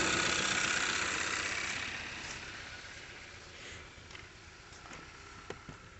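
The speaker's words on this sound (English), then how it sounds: "The check engine light is flashing, it's got all sorts of misfiring going on." A Kia Soul 2.0L GDI engine idling roughly with misfires, loud at first then settling lower, with an uneven rumble and occasional irregular knocks and stumbles.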